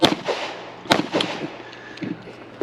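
Compact handgun shots ring out at targets on a shooting match stage, a handful of sharp cracks in an uneven sequence, fairly close, with no talking.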